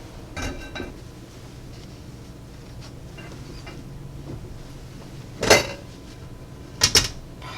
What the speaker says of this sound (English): So you will want to turn it out onto a wire rack.